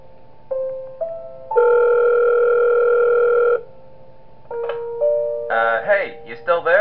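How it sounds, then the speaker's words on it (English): Synthesized phone ringing from the horror game Five Nights at Wario's 3: flat electronic ring tones in a few bursts, one long sustained ring in the middle, then a voice comes in over the line near the end. "And we get a phone call."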